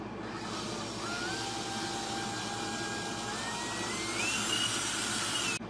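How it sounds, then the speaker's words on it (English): A power drill with a 5/64-inch bit bores a screw hole into a wheel pin for a stock Peterbilt 389, giving a steady, close, unbroken whine whose pitch climbs toward the end; no voices. "I'm going to drill this out to put a screw in there. And 5/64 is the magic bit."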